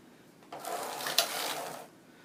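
A knitting machine carriage slides across the needle bed while knitting socks, producing one smooth mechanical swish of about a second and a half with a small click partway through, quiet and close.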